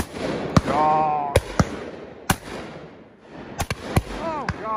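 Shotgun shots at a game shooting lesson on Exmoor, several sharp cracking reports spaced a second or so apart, moderately close over outdoor ambience and wind, with a brief whistling tone between shots.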